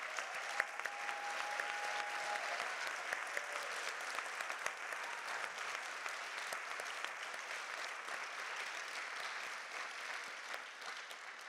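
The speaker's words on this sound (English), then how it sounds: "If they could all rise for a round of applause," An audience applauds youth advocates at an awards event in a hall, giving sustained, even clapping from a crowd that carries on throughout at moderate distance.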